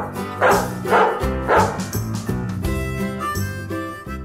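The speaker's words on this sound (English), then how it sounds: "D is for dog." A farm dog barks three clear times in steady succession, close and loud, over a background of sustained musical tones.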